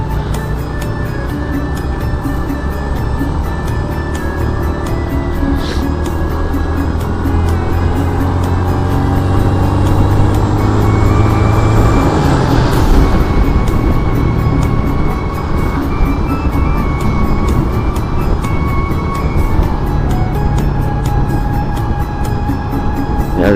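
Trucks and other traffic on a busy village road among farmland, heard from a moving motorcycle: a loud, continuous rumble of engines and road noise that swells as vehicles pass close, with no talking.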